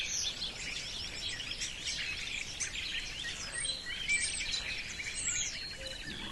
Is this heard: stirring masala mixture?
no